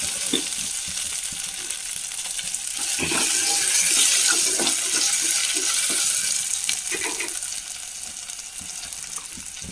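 Chilies and salt fry in a pan, a steady close sizzle with light crackling and occasional stirring or scraping clicks, swelling loudest midway then easing, no voices.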